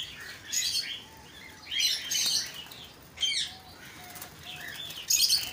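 A diamond dove being caught near its cage flaps its wings in several loud, close bursts of flutter with short pauses between, while faint chirps sound in the background.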